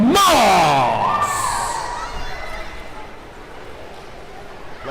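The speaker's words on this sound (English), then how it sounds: "Nice old cheer, big old cheer right there for Ireland." A crowd at an indoor swim meet lets out a loud burst of cheering and shouting that fades gradually into a softer hall murmur over several seconds.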